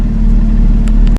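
Porsche 991.1 GT3 engine revved with both paddles pulled, a loud, close, sustained engine roar that cuts off abruptly after about a second.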